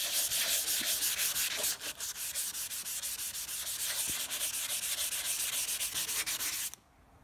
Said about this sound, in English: Right, more sanding.